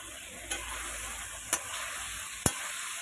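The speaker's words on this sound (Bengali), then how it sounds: "দিয়ে এইভাবে ভালো করে নাড়তে থাকবো মশলার সঙ্গে।" Prawns and pumpkin stems sizzle with spices in a pan while being stirred, a steady frying hiss broken by three sharp clicks of the spatula against the pan.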